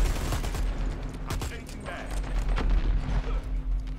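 Rapid automatic gunfire in the shooter game Dirty Bomb, fired from the hip in quick bursts of sharp shots over a constant low hum, close and fairly loud.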